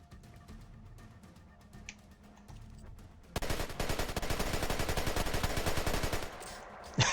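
Rapid automatic gunfire in the stealth shooter Splinter Cell: Conviction. Lighter scattered shots come first, then a loud, dense sustained burst of machine-gun fire, with no voices.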